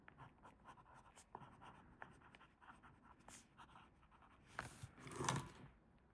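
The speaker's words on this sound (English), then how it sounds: "There's some feedback, but it's just pen on paper." A Lamy Al-Star fountain pen nib scratches across paper in a run of soft, close strokes with light feedback, growing briefly louder near the end, with no talking.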